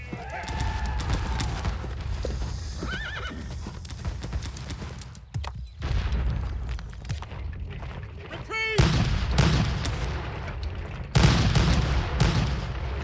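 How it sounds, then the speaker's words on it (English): Canister shot artillery fire in the video game Sid Meier's Gettysburg: heavy booming blasts go off over a steady clatter of horse hooves and battlefield din, with louder bursts near the middle and end. "Come on, canister shots right to the face."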